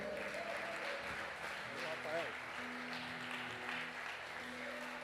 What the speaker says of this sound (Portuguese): Amém, aplauda ao Senhor.